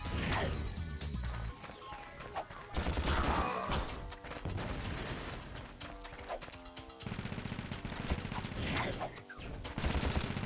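Blaster fire in the action game Ratchet and Clank, with rapid repeated shots and crashing impacts over game music and effects. The firing comes in dense bursts that run through most of the stretch.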